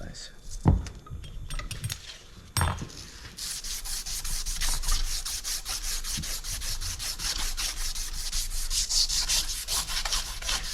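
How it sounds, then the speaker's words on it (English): Burrs and grime being filed off an original Ford script transmission bearing in a late 1938 Ford transmission case, a steady rapid rasping scrape close by, preceded by a few sharp metallic clanks. "Just taking the burrs off here and any crap that might be on there"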